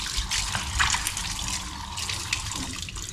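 Water running steadily from a sink tap during dishwashing, a close, continuous splashing gush with small clinks and shifts.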